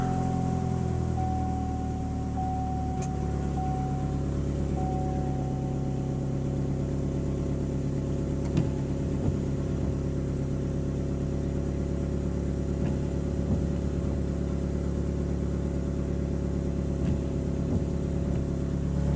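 A 2012 Chevrolet Malibu's engine runs at a steady idle throughout, a close, even hum with faint clicks and small bumps scattered through it, without any talk.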